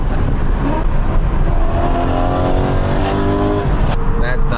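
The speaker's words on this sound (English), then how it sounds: "Because the exhaust note sounds so freaking good." Exhaust note of a BMW E92 M3 being driven with the windows down, a loud engine drone that rises in pitch as it accelerates, with a voice talking over it.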